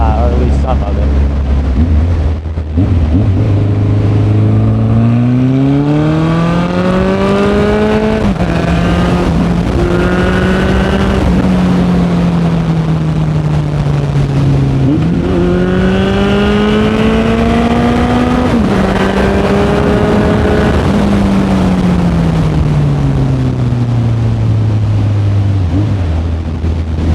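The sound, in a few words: Honda CB1100 motorcycle accelerating, exhaust revving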